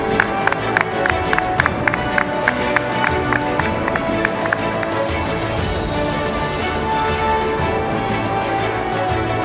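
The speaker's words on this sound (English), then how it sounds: "huge round of applause for Mr." Audience at a formal summit stage event applauds as a star performer is introduced, with regular claps standing out in the first half over a steady bed of music and crowd noise.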